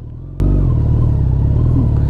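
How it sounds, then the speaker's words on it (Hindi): A motorcycle is ridden carefully over loose sand on Dumas Beach in Surat. The engine suddenly surges into a loud, close, steady drone with a deep low rumble after a quieter start. "गाइस यहाँ पे काफी रेत है, तो बाइक को काफी संभाल कर ले जाना पड़ रहा है।"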